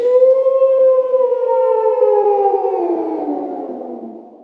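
A wolf howls once in a long, smooth, sustained tone that slowly slides downward and fades out over about four seconds, clear and alone.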